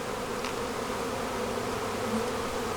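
Honeybees around a swarming hive give off a dense, continuous buzz, close and steady with no voices.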